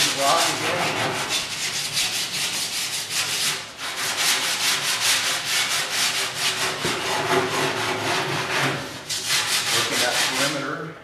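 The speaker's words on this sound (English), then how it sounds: "Hit it with a small sanding block again." A small sanding block is rubbed by hand over Bondo body filler on the sheet metal of a classic car under restoration. The rasping strokes are steady, loud and close, continuous with only brief pauses.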